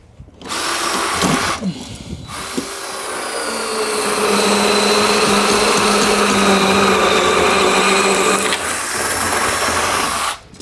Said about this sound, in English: Here's where this right angle drill excels, is in the tighter spots.